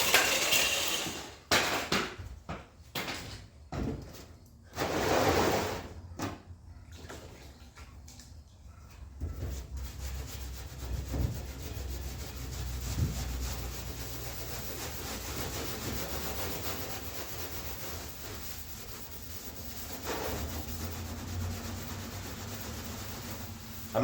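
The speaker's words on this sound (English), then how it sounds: "now I've got an SOS pad and some water, and we're going to work into this" Wet SOS pad scrubbing rusty bare metal on a car body, a steady, close, gritty rubbing that runs continuously after a few sharper scraping strokes at the start.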